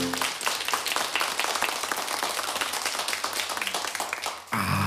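Audience applause breaks out after a performer does the splits on stage, a dense, sustained wash of clapping that stays loud throughout before cutting off abruptly near the end.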